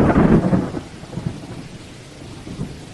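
Rain and thunder in Minecraft: a loud rolling thunder crack opens over steady rainfall, then fades into the hiss of rain with softer rumbles trailing after.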